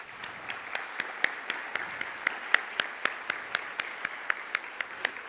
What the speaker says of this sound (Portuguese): Recebam com muito aplauso e muito carinho o presidente do Sindicato Rural de São José do Rio Pardo, Ney Minucci.